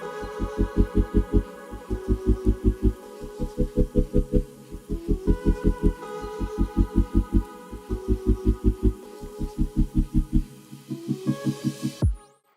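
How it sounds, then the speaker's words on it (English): A sewing machine runs a straight stitch down a pinned corset top seam, its needle chattering in a steady, fast pulsing rhythm close up, with brief pauses before stopping at the end. "Make sure everything is nice and pinned and do a straight stitch down."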